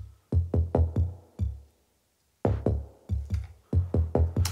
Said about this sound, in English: that bass is from the Yamaha TX81Z